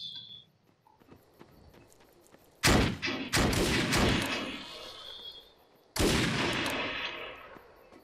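Gunfire in the sci-fi shooter game Defiance: a loud burst of shots near the three-second mark, a second burst right after, then another sharp volley at six seconds, each followed by a lingering noisy tail. No one talks.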